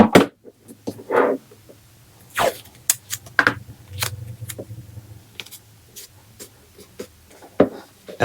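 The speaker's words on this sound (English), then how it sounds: "I'll pull out my trusty painter's tape again and just put some to tape it in place." Painter's tape is torn and pressed onto fabric for a monogrammed Christmas stocking: close, crisp ripping and tearing bursts with soft rubs and pats between them, loud and intermittent without talking.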